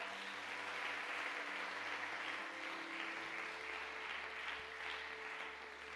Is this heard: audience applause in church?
yes